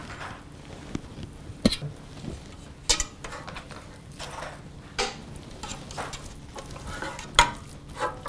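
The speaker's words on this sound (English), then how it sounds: "We're gonna place those meat into the large enough pan." Strips of meat cook in a large pan for Japanese comfort food, with a soft sizzle beneath scattered utensil clacks and stirring knocks at irregular intervals, close by, with no talk.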